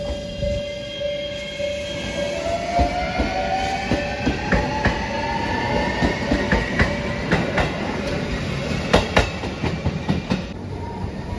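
JR Shikoku 7200 series local electric train on the Yosan Line near Marugame Station, passing close with a rising motor whine, repeated clickety-clack of wheels over rail joints and a loud steady rumble.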